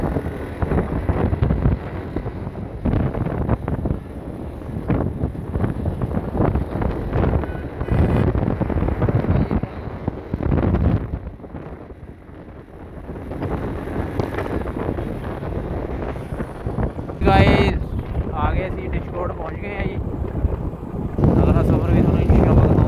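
Wind buffets a microphone on a moving motorcycle headed to Faisalabad, a loud, rough, gusting rumble that swells and dips over the ride, with voices occasionally mixed in.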